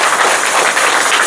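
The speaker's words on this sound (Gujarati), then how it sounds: "તો આપણે બહાદુરભાઈને અને એના પરિવારને તાળીઓના ગડગડાટથી વધાવીએ" Dense, steady clapping from a gathered crowd at a village ceremony in Ambardi, welcoming Bahadurbhai and his family as they hand over a roti-making machine for feeding dogs. The applause stays loud and continuous throughout.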